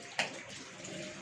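Tap water running into a bucket or tub in a home, a steady soft splashing flow after a brief louder gush at the start, fairly quiet and with no talking.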